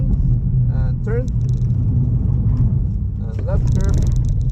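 A four-door car on the Zolder race track rumbles loudly under hard braking into a corner, with squeaky tyre chirps and a steady low engine drone beneath a person talking.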